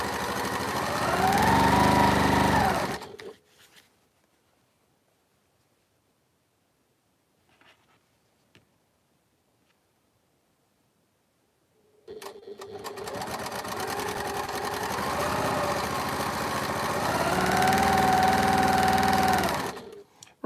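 A sewing machine stitches pieces of a Double Carpenter's Star quilt, running fast and steadily in close, loud whirring stretches of about three seconds and then eight seconds, separated by a long quiet pause.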